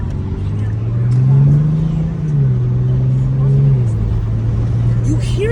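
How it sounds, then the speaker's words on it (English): A newly bought car's engine runs nearby with a loud, steady low drone. The pitch lifts briefly as if revved slightly, then settles back to an even hum. "That engine, man."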